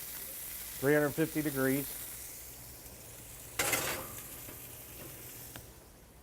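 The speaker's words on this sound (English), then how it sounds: "Cooking really fast in the hot skillet. We just want to get a nice sear on it." Meat sears in a hot skillet with a steady, quiet sizzle that runs throughout. A brief louder hiss flares partway through, and a person speaks briefly near the start.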